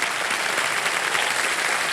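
Studio audience at a quiz show breaks into steady, dense applause, a continuous wash of clapping heard up close for a couple of seconds.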